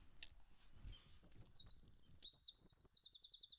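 Birds chirp and trill in a bright, rapid, continuous run of high tweets, close and clear against near silence.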